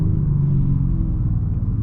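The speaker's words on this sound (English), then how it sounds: "this is kind of like a bumpier road, and this shows me just how good the suspension damping is with the Genesis" A 2023 Genesis G70 3.3T rolls over a bumpy road, heard from the cabin as a low, steady rumble of engine and tires, with a continuous muffled road drone and no voices.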